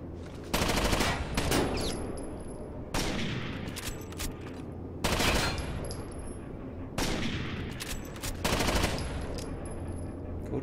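Bursts of automatic gunfire from the shooter game Rainbow Six Vegas 2, four loud sustained volleys spaced a couple of seconds apart, with no talk over them.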